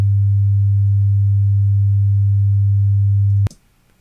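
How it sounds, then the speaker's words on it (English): A loud, steady low sine wave tone generated in Audacity, holding unbroken for about three and a half seconds and then cutting off abruptly with a click into near silence. "it's a sine wave"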